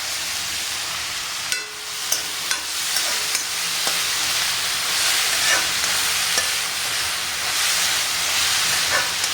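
Chopped onions fry in two spoons of hot oil with spluttered mustard seeds in a pan, giving a steady loud sizzle and hiss broken by scattered sharp pops and clicks.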